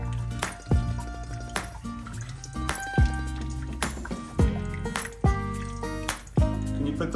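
Water dripping into a bucket on a rural farm renovation site, with distinct clear plinks and splashes at irregular intervals of about one second, fairly close and alone.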